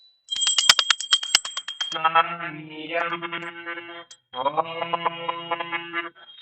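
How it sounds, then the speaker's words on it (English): A ritual bell rings during a water offering at a Hindu puja, giving a rapid run of bright metallic strikes before a voice chants over it. "Please ring the bell as you do so."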